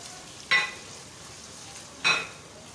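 Whole spices, cinnamon sticks, cumin, black cardamom and cloves, fry in oil in a pot for aloo mutton gosht. A soft, steady sizzle runs throughout, broken by two sharp scraping stirs of a utensil against the pot.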